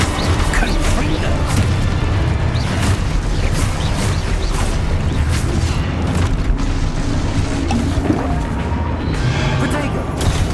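Spell-blasting explosions in the Hogwarts Legacy video game, with Confringo fire blasts booming repeatedly amid dense combat noise, pops and rumbling bursts that run continuously and loud for the whole stretch.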